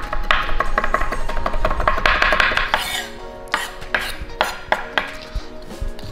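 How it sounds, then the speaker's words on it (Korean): A knife rapidly minces fresh Italian parsley, rosemary and thyme on a cutting board, a quick, dense run of tapping chops followed by slower, louder strikes and a few clinks. No one speaks. "자, 그럼 바로 다져보겠습니다."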